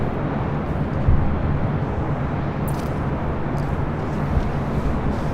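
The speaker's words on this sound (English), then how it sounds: "we got the Emirates A380 Super" An Emirates Airbus A380 arriving on the north side at LAX gives a steady, loud broadband jet roar that holds evenly throughout, with no voices.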